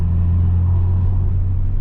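The V6 turbo engine of a Vauxhall Vectra VXR, recently fitted with a hybrid turbo and a new engine mount, runs with a steady, low, heavy rumble, continuous and close, with no talk over it.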